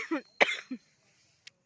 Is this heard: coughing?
yes